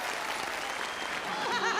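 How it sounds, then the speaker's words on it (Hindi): Studio audience applause on a Hindi TV comedy show, a dense burst of clapping, with a voice beginning to speak as it fades. "तालियां हो जाए इनके लिए।"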